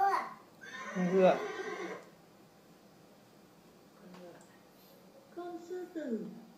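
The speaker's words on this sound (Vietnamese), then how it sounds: "Con ngựa. Con ngựa." A horse neighs in a short whinny early on, followed by a quieter gap and then another voiced call, with children's speech around it.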